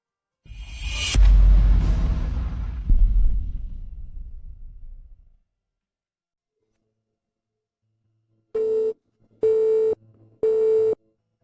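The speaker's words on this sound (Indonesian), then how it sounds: "maka ponsel itu tidak akan berdering." A mobile phone rings with three short, clear electronic beep tones near the end, following a brief whooshing rush and a stretch of silence, with no voices.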